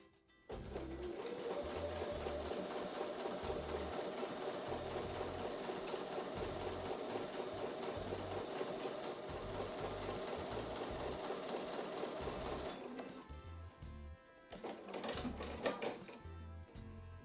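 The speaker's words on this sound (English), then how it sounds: "I'll take that over to the sewing machine and sew with a 1/4 inch seam." A sewing machine stitching a quarter-inch seam on a quilt block, a fast steady mechanical chatter running for about twelve seconds, then stopping, followed by a few short bursts and clicks as the fabric is handled.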